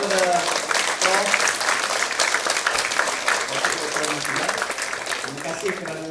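An audience at a university program applauds for a professor, a steady, dense round of clapping lasting several seconds, moderately loud and even throughout.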